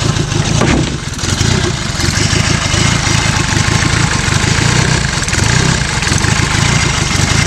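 A buggy engine restarted after freezing in frost idles loudly and steadily close by, with one brief dip in the running sound early on before it settles into a continuous drone.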